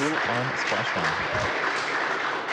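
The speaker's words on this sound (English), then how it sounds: "And I don't know if you can hear the applause" Applause breaks out among the team following the SpaceX Crew-1 Dragon capsule's splashdown: steady, dense clapping under a voice talking over it at the start, continuing at an even level throughout.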